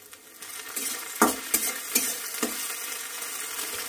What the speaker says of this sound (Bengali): এর মধ্যে আদা রসুন পেস্টটা দিয়ে দিলাম।